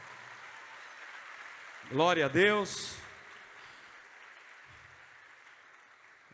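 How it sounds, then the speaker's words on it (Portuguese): Church congregation applauding during a Next Gen 2023 conference service, a steady wash of clapping throughout, with a voice briefly rising over it. "Vamos aplaudir o nome de Jesus nesse momento."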